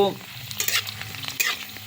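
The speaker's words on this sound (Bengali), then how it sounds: "তোমরা দেখবে গুনে নেবে কতগুলো ফুচকা এই তেলে ভাজতাম ভাজলাম" Fuchka puris fry in hot oil, a dense close sizzle with bursts of crackling and stirring scrapes through the short stretch, with no voices.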